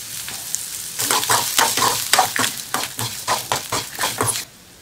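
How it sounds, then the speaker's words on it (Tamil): Fish curry masala of onion, turmeric powder and grated coconut frying in a pan, a steady sizzle with quick repeated stirring scrapes, close and moderately loud, stopping abruptly at the end. "எல்லா மசாலும் நல்லா வறுந்துடுச்சு."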